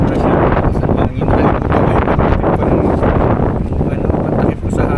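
Strong wind buffets the microphone at a cold-weather mountain campsite in Malico, a loud continuous roar with gusty swells that never lets up through the whole stretch.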